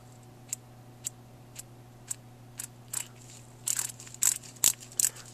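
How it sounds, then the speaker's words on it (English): Crisp mechanical clicks from the dual ball detent of a GrimmSpeed manual boost controller, first spaced about half a second apart, then quicker and louder, over a low steady hum. "You can hear the clicking there."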